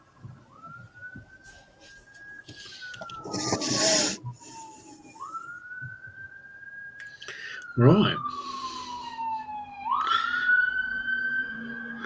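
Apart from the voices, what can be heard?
sirens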